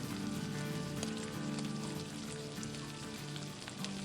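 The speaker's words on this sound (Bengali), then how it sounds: "চিকেনের টুকরোগুলোকে খুব ভালো করে ফ্রাই করে নিতে হবে" Chicken pieces for restaurant-style chicken 65 fry in oil with a continuous, even crackling sizzle at moderate level, no talking over it.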